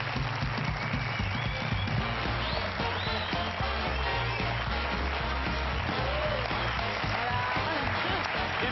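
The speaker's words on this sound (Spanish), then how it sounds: "Vamos a recibir con un fuerte aplauso a Paula Guilló." A studio audience on a Spanish TV show claps to welcome a guest, dense continuous applause with background music and some voices underneath.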